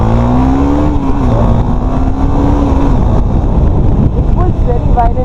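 A 2017 KTM Duke 250 motorcycle accelerating hard while being ridden in Bangalore: a loud, close engine drone climbs steadily in pitch beneath constant wind rush.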